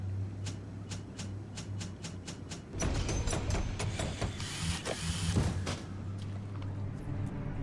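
Weapon upgrade station machinery in BioShock, a run of evenly spaced mechanical clicks over a low hum, then a louder whirring, clanking mechanism that settles back into the hum with a few more clicks.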